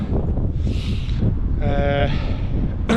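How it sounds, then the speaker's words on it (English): Strong wind buffets the microphone with a loud, constant rumbling roar, and a faint tonal whine rises briefly. "It is mega windy up here."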